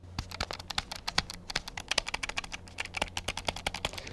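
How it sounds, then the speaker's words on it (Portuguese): A MobaPad controller for the Nintendo Switch gives off rapid, irregular button clicks close up, sharp taps in quick bursts that sound much like typing on a keyboard. "ele faz um barulhinho de clique que pode irritar um pouco, especialmente em ambientes silenciosos"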